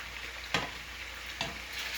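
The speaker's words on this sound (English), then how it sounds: "we're going to flip it over, and we're going to let this brown for a little while" Beef browning in a pot for an old-fashioned winter stew, a steady sizzle broken by two sharp scraping stirs as a wooden spoon flips the meat.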